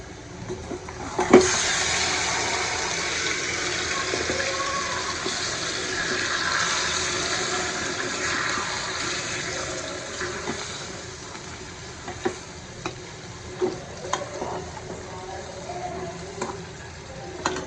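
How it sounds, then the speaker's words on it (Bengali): Beef hitting fried onions in a hot pot for Bangladeshi tehari, opening with a loud sizzling burst that settles into a steady frying hiss, followed by intermittent clinks and scrapes of stirring. "আমার পেঁয়াজটা হয়ে গেছে তো এখন আমি মাংসটা দিয়ে দেবো"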